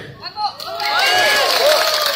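Audience at a French Les Patriotes political rally in Paris breaking into loud, sustained applause and cheering that swells after a short pause, with voices shouting over it.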